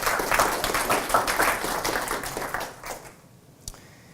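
An audience at a London accessibility meetup claps in a full round of applause that stays steady, then thins out and dies down near the end.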